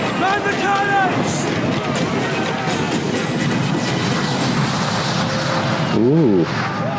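Ship cannons boom during a naval battle in the pirate game Assassin's Creed IV Black Flag. Heavy, rumbling shots mix with busy game sounds and voices, and a brief whooping cry rises near the end.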